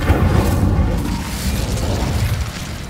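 A fire spell cast in the Hogwarts Legacy video game gives a loud, sustained whooshing burst of flame with a low rumbling roar that holds steady throughout.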